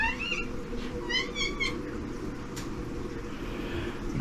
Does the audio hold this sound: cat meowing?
yes